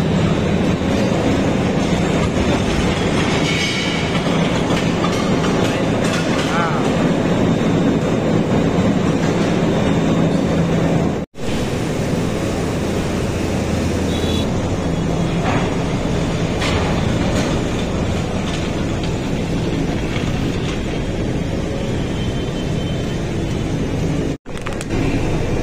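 Steady mechanical rumble and rattling of a ropeway cable car ride up to the Bamleshwari temple hill at Dongargarh, Chhattisgarh, continuous and loud throughout with two brief dropouts.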